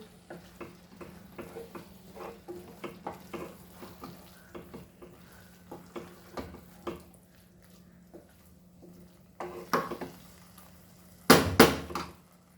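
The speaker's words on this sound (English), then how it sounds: "cashew nuts paste. So we'll mix this nicely." Cashew nut paste being stirred into potato dal in a pan: soft intermittent scraping and squishing strokes over a faint sizzle, ending with a couple of louder clattering knocks.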